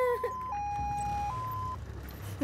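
An ambulance's two-tone siren wails at a distance, its pitch stepping up and down over a low rumble of traffic.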